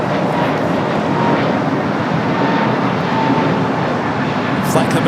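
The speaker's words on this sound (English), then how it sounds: "Flight coming in from Vegas." An airliner arriving at LAX on a flight from Las Vegas, heard as a loud, steady, broadband roar that holds at an even level for several seconds.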